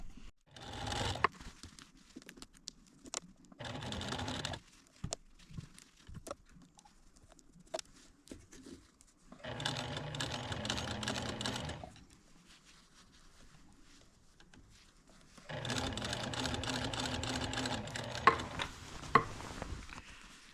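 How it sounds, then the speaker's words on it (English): A sewing machine stitching through three layers of fabric on a garment bag. It runs in several short bursts separated by quiet pauses, faint and fairly close. "And then sew all the way to the bottom."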